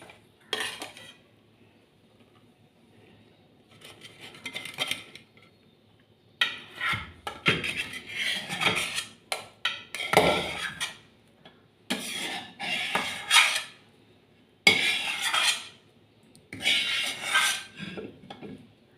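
Rava barfi mixture is scraped and spooned out of a pan into a ghee-greased metal plate, with bursts of metallic scraping and clinking separated by short pauses, close and fairly clear, with no talking.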